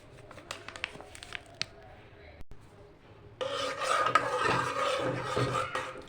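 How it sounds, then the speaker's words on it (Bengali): Powdered milk is stirred into hot water: a few light clicks and taps, then a loud, continuous rasping scrape of stirring that runs to the end. "এটাকে ভালো করে মেলাতে হবে যাতে ডালা ডালা না থাকে"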